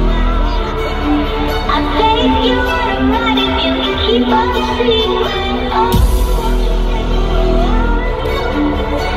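A large festival crowd at the Mysteryland mainstage cheers and whoops loudly and continuously during a DJ set, with shouts and voices riding over music, and a brief break and swell near the end.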